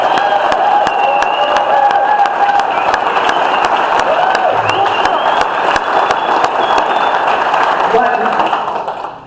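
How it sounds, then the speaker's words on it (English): Meeting audience applauding together in a hall, a dense sustained wash of clapping with some cheering, loud and continuous before tapering off at the end. "let's give him an enormous round of applause"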